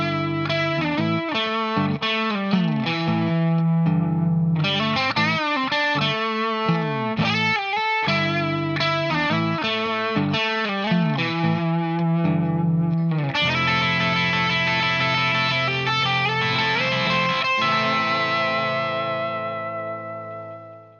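Electric guitar solo, played with effects-laden tone over a rhythm guitar part, a continuous melodic line with sustained notes, ending in a fade.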